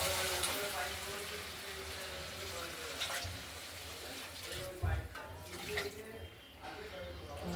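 Water poured into a Bengali katla fish curry with tomato, potato and coriander leaves as it fries, a splashing, bubbling pour over sizzle, with a voice talking over parts of it.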